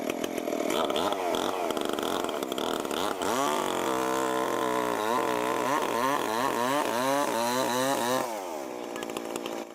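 A chainsaw rips lengthwise through a large log, its engine roaring loud and close, the pitch dipping and rising as the blade loads and clears, then easing off near the end.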